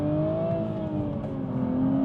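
A Toyota Supra GT4 100th Edition with 340 hp accelerates hard on a highway, its engine holding a steady, loud, rising drone heard from inside the car with no talk.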